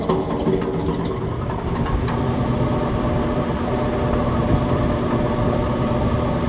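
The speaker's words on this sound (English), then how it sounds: "Makes that noise and it gets louder and louder. And it's something bad inside the fan itself." A faulty outdoor condenser fan motor runs steadily and loudly with a low droning rumble, carrying a rattling flutter near the start, with the compressor disconnected.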